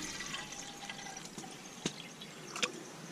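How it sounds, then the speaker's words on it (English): Purified stream water is poured from a grail bottle into a coffee percolator at an outdoor camp stove, a soft trickling flow with two sharper splashes near the end, heard alone and quietly. "Getting the water out of the grail."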